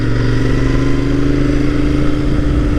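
A Royal Enfield Interceptor 650 motorcycle rumbles loudly and steadily while riding through town, its twin-cylinder engine giving a constant deep drone with no break.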